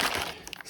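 A large plastic bag around a compact power brick for a Thunderbolt dock crinkles in a short, close, busy burst of rustling that quickly fades.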